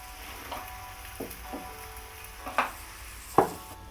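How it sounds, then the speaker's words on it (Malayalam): Fish pieces stirred in a sizzling pan of curry, with a soft steady frying hiss under a few scraping spoon clinks and sharper knocks against the pan. "ഇനി അതിലേക്ക് നമ്മൾ ആ മീൻ ഇട്ട് കൊടുത്ത് പൊടിഞ്ഞു പോകാതെ ഒന്ന് ഇളക്കിയെടുക്കുക"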